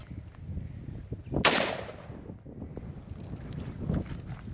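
A single gunshot from an Inter Ordnance AK-47 rifle with a failed buffer, one sharp loud crack outdoors followed by a brief echoing tail over steady wind noise.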